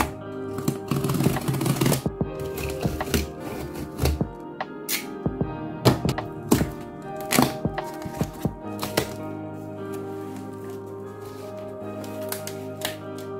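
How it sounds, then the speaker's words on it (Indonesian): A cutter knife slices open a cardboard parcel: a run of scraping, tearing strokes and crackling cardboard, then sharp clicks and handling knocks spread across several seconds, close and fairly loud. "Pertama kita ngambil dulu cutter dan kita langsung akan buka dan langsung unboxing paket ini"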